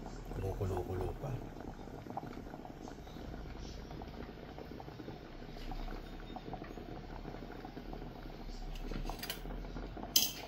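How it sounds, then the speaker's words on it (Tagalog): Steady bubbling and rolling of water boiling in a pot with an Honor X9C 5G smartphone submerged in it, with faint clinks and a sharp tap near the end. "Kumukulo-kulo pa."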